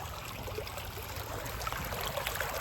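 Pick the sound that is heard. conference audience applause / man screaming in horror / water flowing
water flowing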